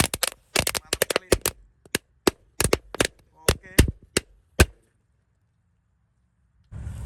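A rapid string of sharp pops from firecrackers set off in the ground, irregular and loud, bursting for several seconds before going quiet; a brief word is spoken early on.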